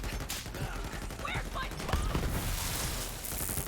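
Rapid gunfire from a kicking gun in the Borderlands 3 shooter, a dense run of shots through most of the stretch with game effects and a voice talking over it.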